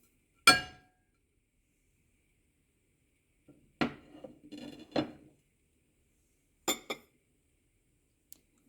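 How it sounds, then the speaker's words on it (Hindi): Spices and white vinegar being mixed in a bowl give a few sharp clinks and clatters of a spoon against the dish, separated by silent gaps, with a short scraping stir in the middle. "ये सारे मसाले हम मिक्स करते हैं।"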